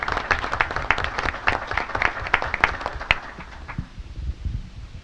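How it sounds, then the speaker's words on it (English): Crowd applause at an agricultural economic outlook event, sharp distinct claps close by, strong at first and then thinning out toward the end. "Please give her a round of applause"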